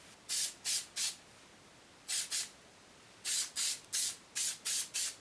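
Short bursts from a spray adhesive can hiss in irregular groups: three quick puffs, a pair, then a rapid run of six, with quiet gaps between.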